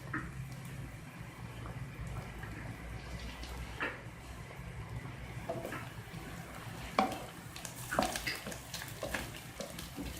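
Onion and ginger fry in a pan for chana dal keema, a quiet steady sizzle with occasional clinks and scrapes of a spoon against the pan, no talking over it.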